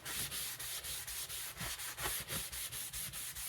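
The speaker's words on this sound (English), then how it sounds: "bevel setting like I just did where I pulled up a burr with this stone" An Old Forge D2 stockman knife blade is drawn across a sharpening stone in steady, rhythmic strokes, about a dozen even rasping passes close up with no talking.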